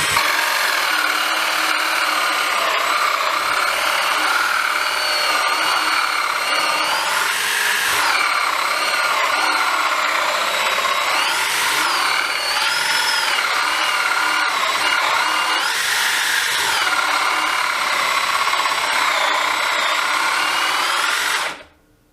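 A DEWALT 12V brushless DCD701 drill boring into wood in second gear, a continuous loud whining grind lasting about twenty seconds with slight pitch swells, stopping abruptly at the end.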